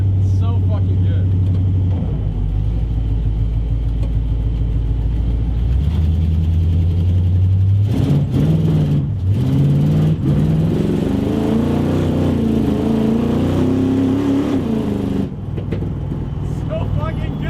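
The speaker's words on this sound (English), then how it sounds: "Just doing a little revvy rev here." Pontiac Firebird V8 with a freshly sorted carburetor revving hard while parked, loud close-up engine roar rising and falling through several blips, with someone talking over parts of it.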